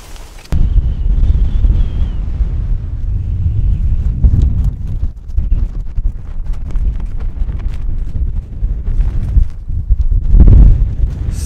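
Strong winter wind buffeting the microphone during a solo wild camp in freezing conditions in the English Lake District, a loud low rumbling roar that gusts and surges unevenly, with a stronger blast near the end.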